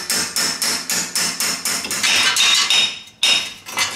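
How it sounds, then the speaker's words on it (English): Hammer blows drive a chisel to pop a Jeep Dana 30 front axle assembly loose: about a dozen sharp metallic strikes in a steady rhythm, close and loud, with a short pause before the final blows and no talking. "you do have to take a chisel"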